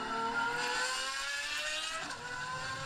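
A 2008 Bugatti Veyron with a turbocharged 8.0-litre W16 engine holds a steady, sustained rev, its tonal drone staying fairly even at moderate loudness with no voices present.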